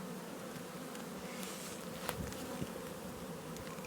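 Bees buzz steadily around a hive, a soft continuous hum close by with a few brief louder passes, no voices.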